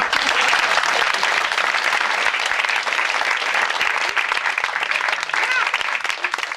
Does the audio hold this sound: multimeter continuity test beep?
no